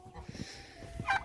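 Chickens cluck out and about on a farm, a few short close clucks and one sharper squawk near the end, mixed with faint outdoor noise and a voice talking.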